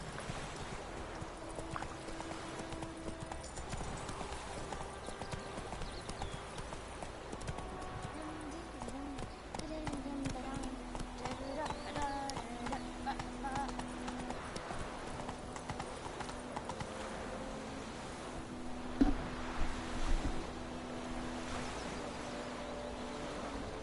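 Roach, the horse in The Witcher 3, gallops along as a steady clip-clop of hooves runs throughout, fairly quiet and even. The rider calls out softly over it.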